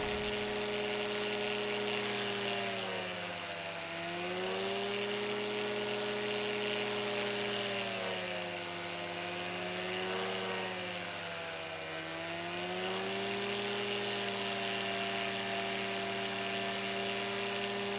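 A de Havilland Beaver ski plane's engine drones steadily at high power during a takeoff attempt on snow, its pitch and loudness swelling and dipping slowly, heard from inside the cabin.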